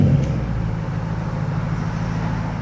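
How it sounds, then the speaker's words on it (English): The hybrid V8 engine of a 680 bhp Porsche Panamera in Sport Plus mode runs as a steady, fairly loud, low mechanical rumble with no distinct peaks throughout. "Let's start the car up in Sport Plus with everything on and see what it sounds like."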